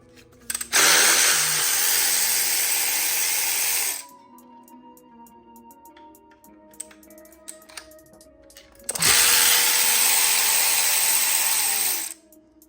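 Power tool whirring loudly while removing M10 bracket bolts from an Audi 4.0T V8 engine during teardown, two sustained bursts of about three seconds each separated by quieter clinks and handling sounds.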